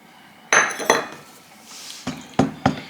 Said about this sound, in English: Mix all of your wet ingredients together.